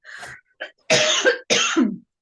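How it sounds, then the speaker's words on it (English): Several harsh coughs in a row, close and loud, the last one trailing off with a raspy throat-clearing sound. "I'm just going to cough."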